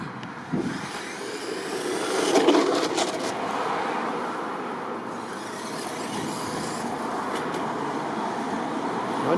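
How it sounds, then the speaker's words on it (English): A Bigfoot RC monster truck running on its first outing, tyres rolling with a continuous rough, broadband rumble and a few louder bumps, steady and fairly close, with no talk over it. "I love how you can hear the tyres."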